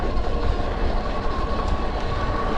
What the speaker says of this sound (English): you'll hear some rattling around in the back with that, you know, Shimano Tourney drivetrain.